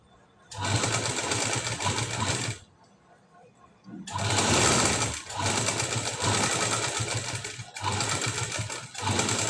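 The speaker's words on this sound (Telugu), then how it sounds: "ఇలా పెట్టేసుకొని ఫస్ట్ లైనింగ్ అది మనము స్టిచ్ చేసుకోవాలండి." An electric sewing machine stitches the lining of a high-neck blouse in loud, steady running bursts that pause briefly and then start again.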